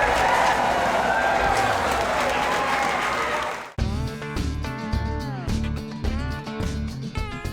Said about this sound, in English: Round of applause for Kendall